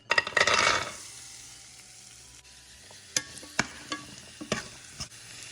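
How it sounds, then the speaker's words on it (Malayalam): Raisins and cashews frying in ghee, a brief loud sizzle and stir at the start settling into a quiet simmer, then a few sharp clinks and scrapes of a spoon against the pan. "കുറച്ച് ഉണക്കമുന്തിരിയും കാഷ്യൂനട്ടും നെയ്യിൽ വറുത്ത് ചേർക്കാം."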